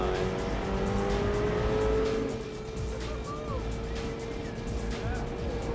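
A race car laps the Silverstone circuit, its engine whining steadily and nearby with pitch shifting through corners, and a brief squeal of tires around the middle.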